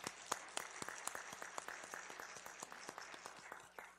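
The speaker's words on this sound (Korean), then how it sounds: "우리 성도님들이 격려의 박수 한번 해주시죠" A church congregation applauds during a Korean afternoon praise service, giving a moderate run of distinct, fairly quiet claps heard in a reverberant hall.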